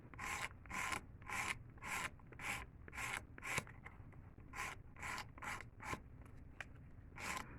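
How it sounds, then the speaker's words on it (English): Acrylic nail being filed with a hand nail file, a steady run of about a dozen short, rhythmic rasping strokes, close and clear, with no talking. "You want to keep on filing until it's no longer that little square right there"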